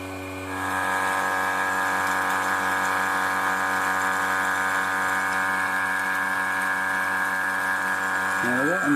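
A vacuum chamber pump drones loudly and continuously with a strong harmonic whine, starting abruptly after a brief quieter moment and running unchanged to the end.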